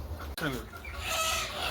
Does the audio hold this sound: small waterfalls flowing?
no